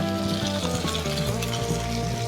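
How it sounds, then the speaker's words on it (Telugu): Onions and medium tomatoes cut in big pieces frying in a pan for paneer masala curry, giving a loud, dense, continuous sizzle close by with faint stirring. "ఉల్లిపాయలు కొద్దిగా ఫ్రై అయిపోయినాయి ఇప్పుడు ఇందులో రెండు మీడియం సైజ్ టమాటా ఇలా పెద్ద ముక్కలుగా కట్ చేసిన వేసుకుందాం"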